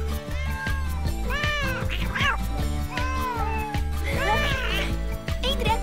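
Cartoon kittens meow repeatedly in a playful, high-pitched chorus while they play ball with a small dragon, the mewing loud and close over an animated music and effects bed.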